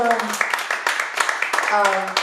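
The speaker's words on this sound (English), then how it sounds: "Yes, a round of applause for Ysanne." A small audience at an artist workshop applauds, with scattered hand claps continuing underneath a person talking over them.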